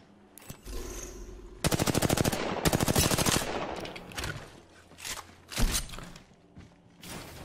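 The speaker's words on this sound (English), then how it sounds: "I'm just sending off shots like I got a million fucking rounds." Rapid automatic gunfire from the video game Apex Legends, two dense bursts of close, loud shots followed by scattered single reports, clanks and movement noise.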